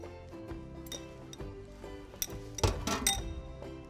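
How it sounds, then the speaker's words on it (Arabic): A spoon clinks against a glass or ceramic bowl while sauce is mixed and poured over fava beans, a run of light, irregular chinks and taps that peaks in a brief clatter. "رح نخلط الصوص تبعتنا، رح ننزلهم فوق الفول"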